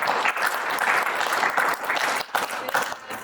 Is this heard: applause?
yes